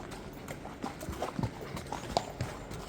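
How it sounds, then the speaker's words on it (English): Horse hooves clip-clop on hard ground as riders head out on a farm, an irregular run of close, moderately loud footfalls with faint background noise. "Myself and James Ian are going riding out."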